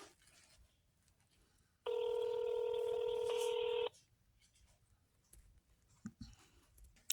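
A telephone keypad dials a number: a steady run of touch-tone beeps lasting about two seconds, fairly loud and clear against a quiet background with faint room noise and a few small clicks afterward.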